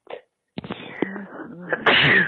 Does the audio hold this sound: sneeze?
yes